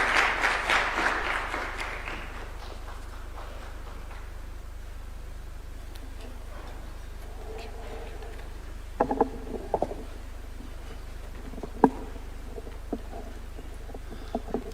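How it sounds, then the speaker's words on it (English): Applause at an official ceremony at State House, Nairobi, Kenya, a brief burst of clapping that fades within about two seconds, followed by a quiet room with scattered faint knocks and shuffles. "Could we clap for the party leader of ODM as he comes?"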